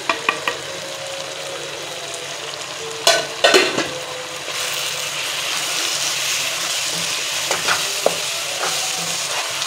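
Spices tipped into mutton karahi in a hot wok set off a steady sizzle, with sharp clanks of a spoon stirring at the start and again midway, the frying hiss swelling and staying loud throughout.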